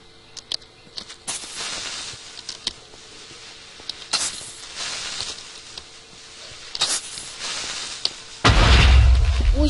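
A Minecraft creeper explodes in hardcore survival mode with a sudden deep, rumbling boom near the end, after scattered light game footsteps and soft clicks.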